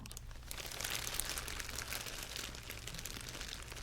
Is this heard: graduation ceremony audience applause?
no